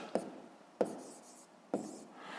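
Pen strokes writing out a math expression for a sixth-grade exercise, three short scratchy taps spaced about a second apart, close and quiet with no talk.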